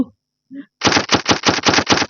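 Rapid bursts of automatic gunfire in a video game, loud and close, firing in a steady rapid rhythm after a brief vocal sound and a moment of silence.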